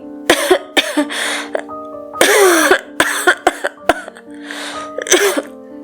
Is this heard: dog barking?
no